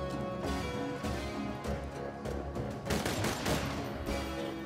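Rapid bursts of gunfire in the video game Borderlands 2 crackle continuously over a dense background of game effects, several volleys overlapping without pause.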